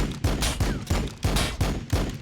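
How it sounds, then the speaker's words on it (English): Rapid bolter gunfire from Warhammer 40,000: Battlesector, a loud repeating burst of heavy shots firing in steady pulses about every half second, with no talk over it. "Should we go ahead and just light them up with the bolter?"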